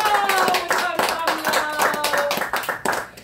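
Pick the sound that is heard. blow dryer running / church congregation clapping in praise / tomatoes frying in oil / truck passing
church congregation clapping in praise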